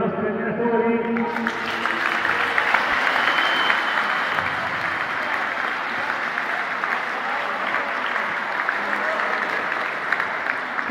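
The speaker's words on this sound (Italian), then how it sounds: "E qui partirei con un applauso per i nostri allenatori." At a youth and first-team volleyball club presentation, an indoor crowd breaks into sustained, loud applause that swells after a brief opening and continues steadily to the end.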